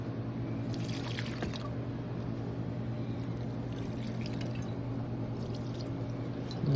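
Banana water splashes and trickles onto garden plants like peppers, eggplant and okra outdoors, a steady close pouring with soft drips over a low background hum, no talking.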